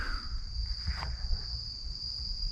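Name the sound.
crickets and bugs chirping by the trees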